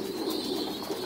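Pigeons at a breeding farm cooing steadily after feeding, a soft continuous murmur of several birds close by with no talking.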